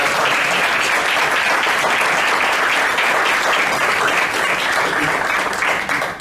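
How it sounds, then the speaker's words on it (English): Steady, dense applause fills a city council meeting chamber in Lancaster, loud and unbroken for about six seconds before easing slightly at the end. "I'm going to give you a round of applause"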